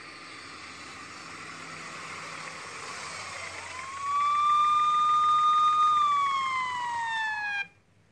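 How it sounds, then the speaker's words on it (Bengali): A police car siren wails as it pulls up in front of a nursing home, one long rising tone that holds loud and steady before gliding down and cutting off abruptly, used as a story sound effect. "গার্গী উত্তর দেওয়ার আগেই নার্সিং হোমের সামনে পুলিশের গাড়ি থামার শব্দ"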